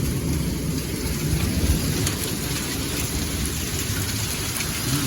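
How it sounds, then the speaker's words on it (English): Small marble-sized hail and rain beat steadily against a back window during a storm, a dense continuous patter with faint sharp ticks spread evenly through the whole stretch, no talking. "Well, here comes the hail."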